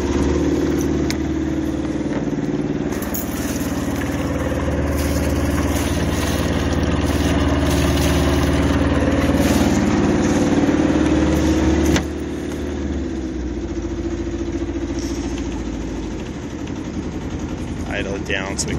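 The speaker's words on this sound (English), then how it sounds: "Starts like that every time. Really economical. It's a 2-cylinder Yanmar." A two-cylinder Yanmar boat engine on a 1978 Hunter 30 sailboat idles steadily with a low, even chugging throughout, dropping slightly in level partway through; a voice speaks over it at times.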